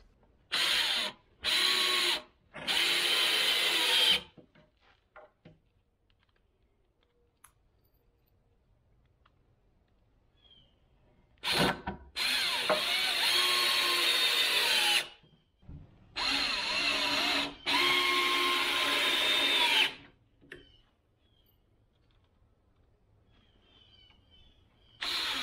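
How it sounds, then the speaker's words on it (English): A power tool cutting notches in wood for a canoe rack on a utility trailer, several loud bursts of a few seconds each, separated by quiet pauses, with no talk. "I'm just going to cut the rest of these notches"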